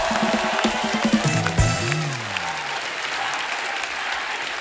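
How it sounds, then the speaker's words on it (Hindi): An audience at a Bollywood comedy event breaks into loud, dense applause and cheering that swells early and then settles into steady clapping, with a brief voice or musical tone rising over it. "जोरदार तालियां रणबीर और अनुभव बस्सी के लिए।"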